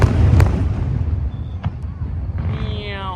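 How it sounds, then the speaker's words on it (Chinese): Fireworks at a fireworks show at Taipei's North Gate: a heavy low boom at the start, then sharp distant pops and cracks scattered across the sky, with crackling and whistling trails near the end. "开始五彩烟火了"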